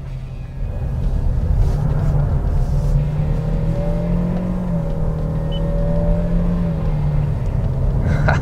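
A VW Brasília engine accelerating in first gear on a kart track, a close, loud, steady drone whose pitch rises slowly over several seconds, with no talking.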